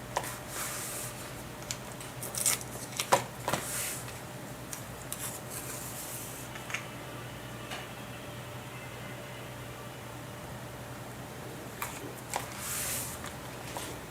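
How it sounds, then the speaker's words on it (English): Scissors trim a paper insert for a traveler's notebook, making faint, quiet snips and rustles in a few short clusters against a soft background hiss. "then I'll go back and trim it all together with my scissors"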